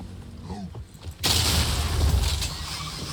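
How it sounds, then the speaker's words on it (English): A cold explosive shot goes off in the action game Path of Exile 2. After a second of quieter game sounds, a sudden loud blast bursts in and rumbles on steadily until the end. "Look at that explosion."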